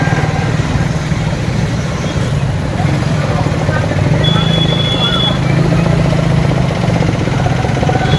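A motorcycle ride on a road, with a steady, loud engine drone and rumbling wind noise running continuously from start to finish.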